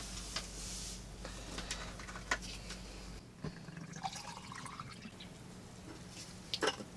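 Water trickling and dripping onto a desk while a self-heating ration pack is being filled, faint irregular drips and small splashes in a quiet room.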